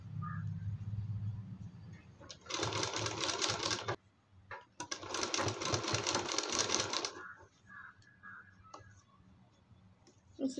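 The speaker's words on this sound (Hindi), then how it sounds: "उसी तरीके से अंदर की तरफ इसको डालना है और फिर इधर से लेते हुए इसको बीचों बीच सिलाई गोल घुमाते हुए लगा देनी है" A sewing machine stitching a kurti hem runs in two loud, dense buzzing bursts of a few seconds each, separated by a short pause, with quieter handling clicks before and after.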